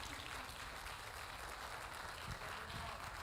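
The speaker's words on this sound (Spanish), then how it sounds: "denle un fuerte aplauso al Señor" A church congregation at an anniversary service applauds, a faint, steady wash of clapping heard from a distance.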